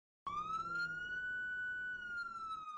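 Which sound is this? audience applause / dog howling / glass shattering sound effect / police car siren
police car siren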